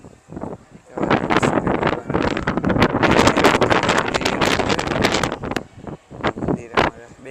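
Strong gusts batter the microphone near a hilltop temple at Bagdana, giving loud, roaring buffets that rise and drop. A voice can be heard faintly now and then underneath.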